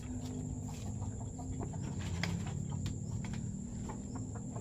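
A backyard chicken being fed clucks in short, soft bursts that are partly buried under steady outdoor background noise, with no voices.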